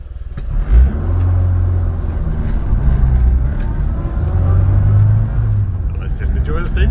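A classic Mini's engine hums steadily while driving, with low rumbling swells as it revs up and eases off, close and continuous throughout.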